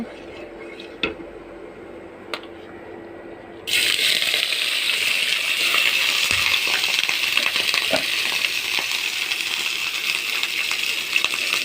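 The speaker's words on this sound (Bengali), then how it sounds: "কড়াইতে তেল গরম হয়ে গেছে মাছটা আমি ভাজি করে নেব" Bain eel fish drops into hot oil in a wok and starts frying, a sudden loud, steady sizzle after a few quiet clinks that keeps crackling evenly to the end.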